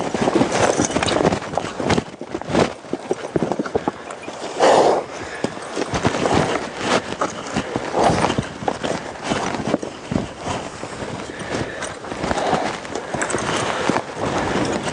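A horse being worked by a trainer clip-clops steadily on the ground, hoofbeats repeating in an uneven walking rhythm at moderate distance, with a brief whinny-like burst midway.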